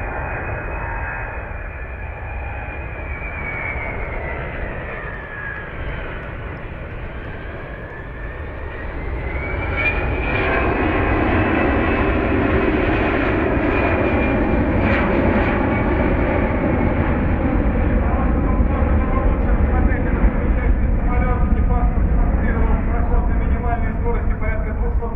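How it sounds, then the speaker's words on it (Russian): A Russian Air Force Ilyushin Il-76MD-90A military transport aircraft flies past, its engine roar swelling loud and broad with a sweeping whine that rises and falls, filling the whole pass without voices. "проход самолета Ил-76МД-90А"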